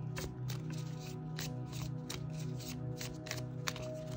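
Tarot cards from a smooth-finished deck are shuffled by hand at close range, a steady run of soft riffling flicks and slides that is faint and continuous under a constant low hum.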